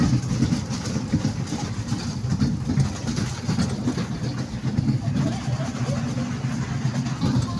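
A small dragon toy train ride at an amusement park in Chandannagar rumbles along steadily, a low continuous rolling drone with faint voices in the background.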